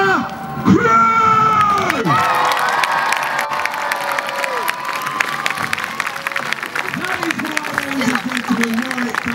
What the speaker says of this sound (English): give the biggest cheer you ever have for